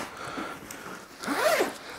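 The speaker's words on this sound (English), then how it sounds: "it zips all the way around like a book" A zipper on a Patagonia Headway MLC travel bag is pulled open around the main compartment, a steady rasping run that swells louder near the end, heard alone without talk.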